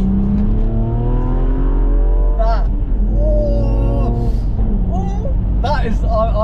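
Stage 2 tuned 400 bhp BMW engine pulling at full throttle from inside the car, a steady loud drone with rising harmonic sweeps as revs climb, under ongoing conversation between occupants.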